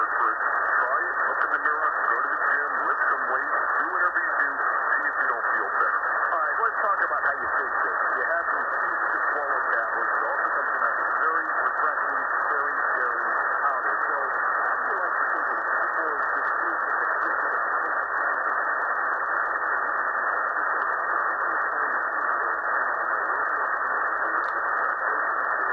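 An AM broadcast station picked up during a medium-wave bandscan, heard as a steady band-limited radio signal with a voice or program audio under a constant hiss, continuous and fairly loud throughout.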